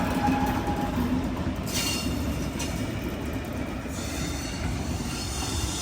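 A Millennium Express sleeper-class train rolls steadily into Vijayawada station, a loud continuous rumble of wheels on rails with faint squeals and passing clatter, and no voices.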